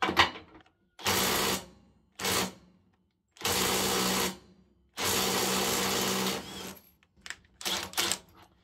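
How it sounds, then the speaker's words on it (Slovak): A Parkside Performance PDSSAP 20 Li cordless impact wrench breaks loose 350 Nm bolts in loud hammering bursts. Several bursts last about half a second to a second and a half, separated by silent gaps and ending in short stuttering pulses. "Na každej zo skrutiek je 350 Nm a vyskúšame každú z nich povoliť inou batériou."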